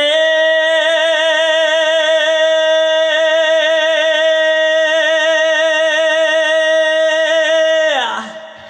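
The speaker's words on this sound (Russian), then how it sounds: "когда мы поем ее с вибрато, она звучит так." One long sung note held for nearly eight seconds with a regular, pulsing vibrato throughout, close and strong, ending with a brief downward slide.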